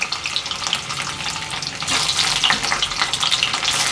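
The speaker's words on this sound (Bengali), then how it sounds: "পনির এক এক করে দিয়ে আমি পনিরটা ভেজে ভেজে করবো।" Paneer pieces dropped one by one into hot oil give a steady crackling sizzle that grows louder and denser about halfway through, with no talking.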